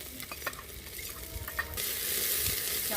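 Hand-pounded ginger garlic paste hits hot oil with cumin and sizzles into a steady frying hiss, with a few sharp stirring scrapes at first and a louder sizzle swelling near the end.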